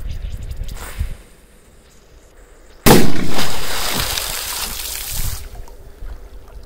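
A firecracker explodes underwater: a sudden muffled boom bursts out, followed by a long rushing splash of churning water that fades over a few seconds.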